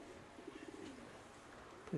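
Pigeons cooing softly outdoors in a quiet open setting, a few faint low coos spread across the moment with a slightly louder call at the end, distant background murmur.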